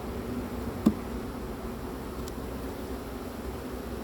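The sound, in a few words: honeybees buzzing on hive frames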